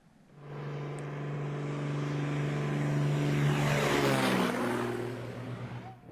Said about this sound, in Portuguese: Um avião de pequeno porte pousou na BR-116 com donativos para afetados pelas chuvas